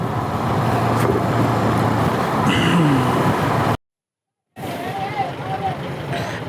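Heavy road traffic at night on a long highway ride toward Dwarka, with a steady loud rumble of passing vehicles and engines, a brief dropout midway, then continuing traffic noise with voices faintly beneath.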